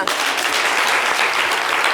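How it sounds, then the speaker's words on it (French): Studio audience at a French-language TV talk show breaks into applause, a dense, loud burst of many hands clapping throughout, with no talking over it. "on va l'applaudir"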